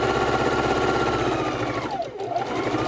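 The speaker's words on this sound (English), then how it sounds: "I'm going to go ahead and sew up the rest" A sewing machine stitches log cabin quilt block pieces together in a steady, close mechanical whir that runs without pause and dips briefly near the end.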